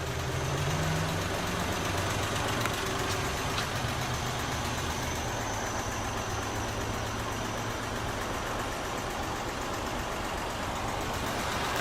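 A 2009 Smart Fortwo's 1-liter dual overhead cam inline three-cylinder engine idles at a steady low rumble, heard fairly quietly with no voices.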